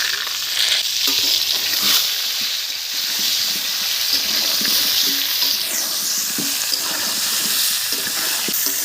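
Whole potatoes hit hot oil in a village-style pan for a 4 kg rooster curry seasoned with turmeric and salt, giving a steady, loud sizzle with stirring and scraping throughout, no voices.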